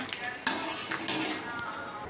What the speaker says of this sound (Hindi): अब इसमें हम थोड़ा सा मूंगफली भी फ्राई कर लेते हैं।